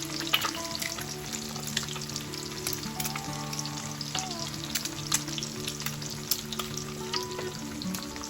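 A goose egg fries in a pan, a steady soft sizzle and crackle with scattered tiny pops, fairly quiet and close, continuous throughout with no talking.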